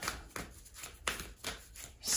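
Tarot cards shuffled by hand during a love reading, with several quick riffling bursts in an uneven rhythm, close and fairly clear, with no talking.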